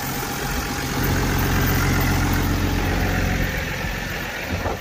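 A Dodge Ram Cummins 6.7 turbo diesel with a turbo actuator problem idles steadily nearby, a continuous low rumble with no speech.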